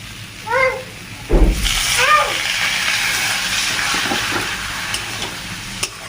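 Bottled water poured into brinjal and potato strips already frying in hot ghee for a fish rezala gives a sudden loud hiss and burst of sizzling, which settles into a steady bubbling fry with a few faint clinks.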